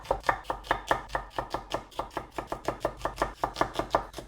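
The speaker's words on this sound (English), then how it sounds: "I'm going to just thinly slice it like this" Onions are sliced thinly with a knife on a cutting board, about twenty quick, evenly spaced chops in a brisk, steady rhythm, close and clear with no voices.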